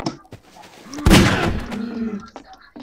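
Gunshots in the Half-Life 2 video game: a few sharp, close shots ring out, with one loud burst near the middle, mixed with game effects and a voice speaking.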